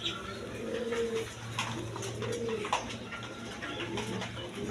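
A pair of colored Rajgolla pigeons coo in soft, repeated rolling phrases close by, with a steady low hum underneath and no talking.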